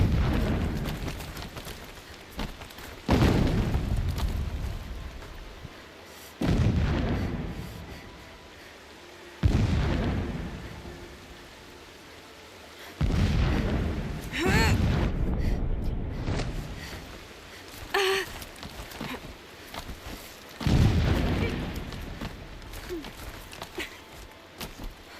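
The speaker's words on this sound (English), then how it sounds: "Explosions in the distance." Distant explosions in the video game Horizon Zero Dawn, a series of deep rumbling booms recurring every few seconds, each swelling then fading, heavy and far off with a voice speaking faintly beneath.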